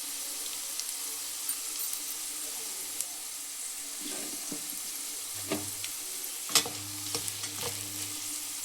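Dried red chillies and asafoetida fry in hot oil for a dal tempering, a quiet crackle with intermittent stirring clatters and a few sharp taps against the pan.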